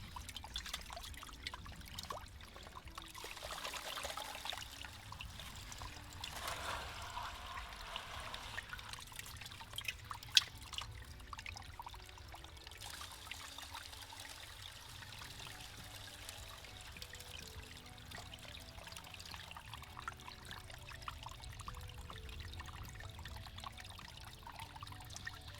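Water runs steadily through a gold prospecting sluice box fitted with a mini cell dream mat, a continuous pouring trickle with low flow, close and fairly even throughout with no talking.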